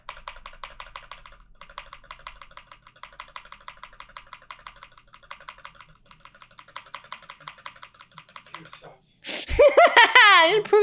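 Rapid typing on a computer keyboard, with steady bursts of keystrokes over most of the stretch, followed at the end by a loud burst of laughter and voices.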